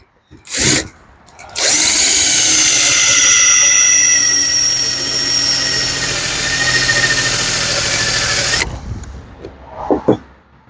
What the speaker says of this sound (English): We're gonna drill her out.